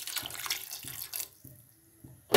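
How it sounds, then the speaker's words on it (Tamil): Water poured from a tumbler onto mashed vegetables for pav bhaji gives a short, close splashing rush that cuts off abruptly, followed by quiet and a sharp knock at the end. "இப்போ காய்கறியோடு 1-2 டம்ளர் தண்ணீர் ஆட் பண்ணிக்கலாம்."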